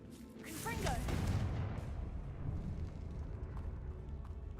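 A Confringo blasting spell explodes in the game Hogwarts Legacy, a broad rumbling boom with a rising whoosh that decays into a long, steady roar; a voice is heard over the start.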